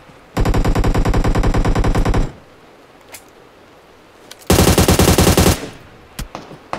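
Automatic gunfire in a mobile battle-royale shooter comes in two long rapid bursts, loud and close, separated by a quieter gap with a few single shots.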